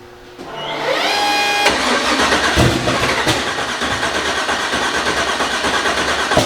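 A turbocharged 427 engine cranks briefly, then catches and roars to life, settling into a loud, steady, rumbling idle with slight revving fluctuations, heard close up with no talking.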